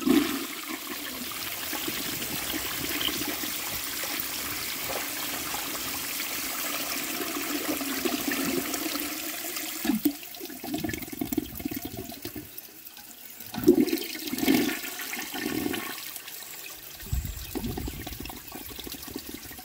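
A 1905 forward trap toilet flushes with two grocery bags in the bowl: a loud rushing flush that swirls and gurgles, then settles into intermittent gurgles and splashes as the water drains and refills.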